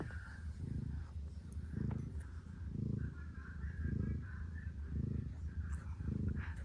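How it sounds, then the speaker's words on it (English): A cat that is unwell purrs in slow, steady pulses about a second apart, close and fairly quiet, with a soft hiss behind it. "He's purring. Can you hear him?"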